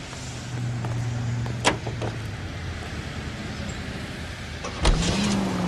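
A car engine in the 1940s crime game L.A. Noire runs at a steady low hum, broken by two short mechanical clunks like a door or window moving, with a rising engine tone near the end.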